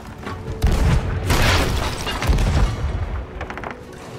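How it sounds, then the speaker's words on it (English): Enemy ship cannons booming at the player's vessel in Sea of Thieves, a run of heavy blasts and rumbling impacts in quick succession, loud and close with rattling debris. "They're back on firing at me again."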